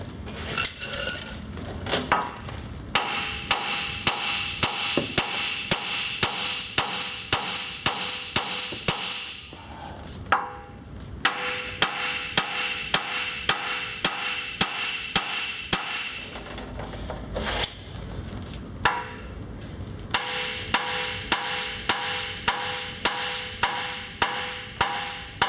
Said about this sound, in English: Give a couple whacks on top